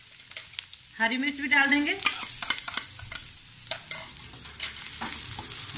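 Chopped onion, ginger and garlic fry in a pan for a pasta sauce, with a steady sizzle and scraping stirs that come through in bursts. A brief voice speaks near the start.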